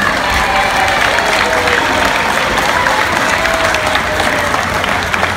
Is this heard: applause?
yes